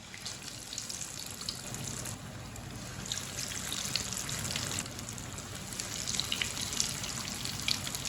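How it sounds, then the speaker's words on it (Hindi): Bread slices fry in hot oil with a steady, moderately quiet bubbling hiss and scattered small pops, continuous throughout. "ऑयल हमारा अच्छी तरह गर्म हो चुका है। अब एक एक पीस ब्रेड का डालेंगे।"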